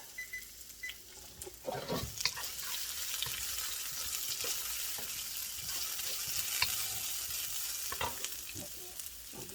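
Onions, ginger and garlic fry gently in a pan for chicken biryani, giving a faint, steady sizzle. Occasional spoon scrapes and stirring clicks sound close by, and no one speaks.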